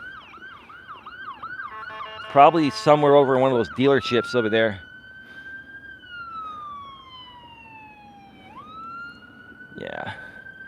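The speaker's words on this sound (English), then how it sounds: "Now here comes the ambulance." An ambulance siren wails close by, sweeping up and down in pitch and then holding long rising and falling tones as it passes, while people talk over it outdoors.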